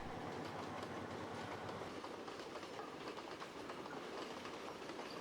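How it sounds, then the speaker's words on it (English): A mixed freight and passenger train in Sri Lanka rolls steadily along the rails with a continuous rumble and rhythmic clickety-clack of wheels, close and loud throughout, with no voices. "The local railway carries mixed freight and passengers, all on the same train."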